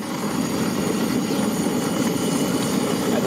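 A high-pressure camp stove burning at full output, a steady close roaring hiss that holds evenly throughout with no voices.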